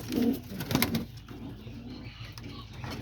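Homing pigeons coo in a loft, soft low throaty calls close by, strongest in the first second and then fading into quieter murmuring cooing under a faint background hiss.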